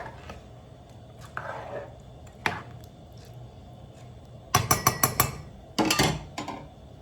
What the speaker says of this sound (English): I'm giving it a good stir